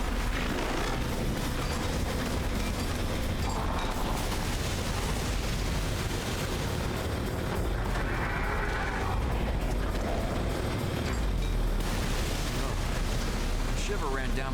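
A shockwave attack goes off in the video game Daemon x Machina as a loud, sustained roaring blast with heavy rumbling and crackling bursts that fill the whole stretch, dense and close.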